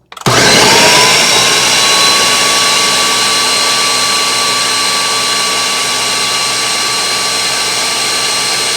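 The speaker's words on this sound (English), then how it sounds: "Put the vanilla blender high for about a minute until it's quite smooth" A blender mixing a vanilla milkshake whirs loudly and steadily at high speed, a continuous motor roar with a high whine that holds unbroken for several seconds.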